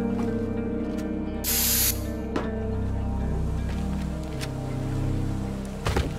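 Spray paint from a can in the Teardown video game gives one short, bright hiss of about half a second over a steady low in-game hum.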